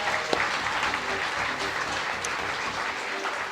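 Steady, dense applause from an audience at a Fleadh Cheoil na hÉireann traditional music event, sustained and fairly distant-sounding, with no talk over it.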